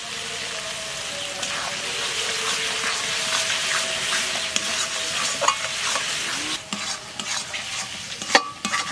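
Spice paste of salt, turmeric and green chili frying and being stirred in a pan for stingray fish curry, a steady close sizzle with scraping stir strokes growing busier toward the end.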